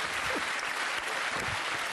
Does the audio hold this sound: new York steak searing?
no